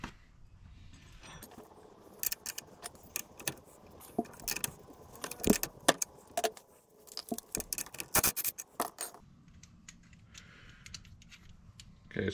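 Metallic clinks, taps and jangling come from removing an old camber bolt from a Volvo XC70 steering knuckle, irregular and close over a quiet background, with a tool whir near the end.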